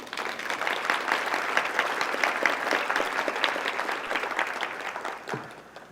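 An audience applauds volunteers at a 2014 talk by Ronald Chapman: dense, steady clapping from a full room, sustained throughout and tapering off at the end.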